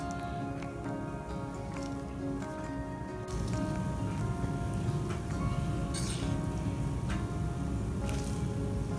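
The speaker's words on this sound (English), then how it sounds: "Now we're going to fill it up our potato cases." Tuna melt mixture is spooned into hollowed potato shells, giving close, soft wet squelches and scraping taps that repeat irregularly over a faint steady hum, with no talking.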